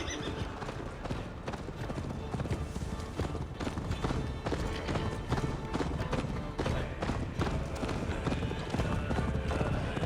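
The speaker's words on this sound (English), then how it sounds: "Ride like Sleipnir's hooves" Rapid galloping horse hoofbeats from the video game Assassin's Creed Valhalla pound continuously beneath a dense, noisy mix of movement and background sound, loud and close throughout.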